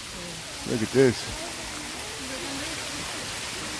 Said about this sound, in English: Always nice to have a waterfall.